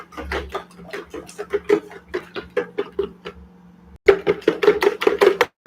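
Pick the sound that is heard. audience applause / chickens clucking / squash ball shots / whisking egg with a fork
whisking egg with a fork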